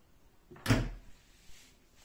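A kitchen drawer holding cooking utensils slides open or shut, giving one short, fairly close knock with a brief rattle and then a faint follow-up sound in a quiet room.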